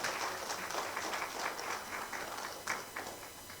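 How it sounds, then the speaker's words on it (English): Clapping from attendees at a national stakeholders' dialogue for a presenter, a soft, steady patter of hands heard from some distance, with a few sharper individual claps standing out near the end. "Please, a round of applause again for her."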